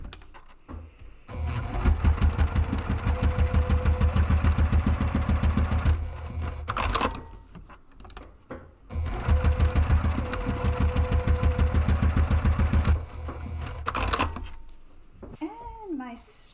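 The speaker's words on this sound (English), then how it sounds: "then run 2 rows of stitching across there to attach that" A sewing machine runs two rows of stitching across a padded camera bag strap, giving a steady rapid mechanical whir in two long bursts with pauses between. A voice talks close by.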